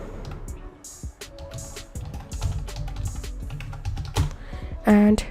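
Someone types an email address on a computer keyboard, a quick close stream of key clicks that ends in a louder tap.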